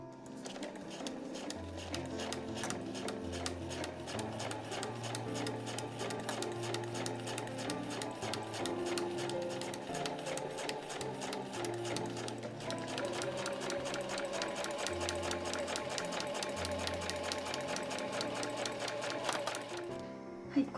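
A sewing machine stitches a fabric tote bag edge, its needle clattering in a fast even rhythm for a long stretch, close and continuous without pause.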